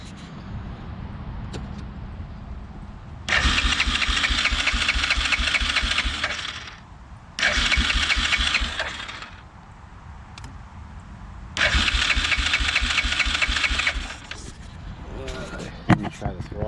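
A Yamaha Grizzly 350 4x4 ATV with a very dirty air filter is cranked after a dose of starting fluid, three separate loud bursts of rapid rhythmic chugging with pauses between them.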